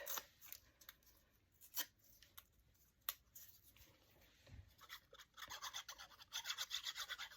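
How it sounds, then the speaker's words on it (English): Paper edges torn by hand for mixed media crafting, with soft rustling, a few sharp close rips and a denser run of scratchy tearing toward the end, quiet and with no talk. "I think I'm going to just tear this one down a bit"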